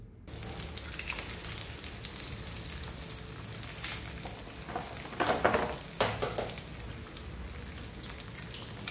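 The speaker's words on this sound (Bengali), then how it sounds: "তারপর ডিমগুলাকে সুন্দর করে স্ক্র্যাম্বল করে নিচ্ছি" Three eggs scramble in a hot frying pan, giving a steady crackling sizzle with bursts of louder spatula scraping and stirring partway through, close and without talk.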